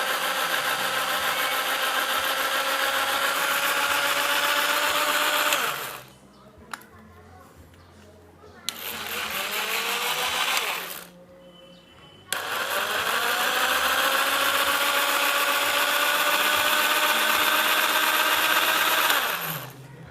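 A Maxpro 800W jigsaw (MPJS800VLQ) whines loudly and steadily on speed setting 2, cuts out briefly, revs up again for a few seconds, stops, then runs continuously at high speed.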